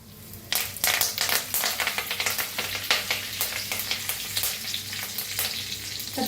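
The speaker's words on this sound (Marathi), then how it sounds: "त्याच्यात टाकूया एक चमचा जिरा त्याच्यात टाकूया कढीपत्ता" A spoonful of cumin seeds and curry leaves go into hot oil already crackling with mustard seeds, setting off a sharp, busy sizzle full of rapid pops and spatters that carries on steadily, close up and with no talking.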